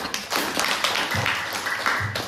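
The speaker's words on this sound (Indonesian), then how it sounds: "kelompok 4 diberi tepuk tangan dulu" A classroom of students claps for a group of classmates, a burst of dense, uneven hand claps and taps filling the room for a couple of seconds, fairly close and loud.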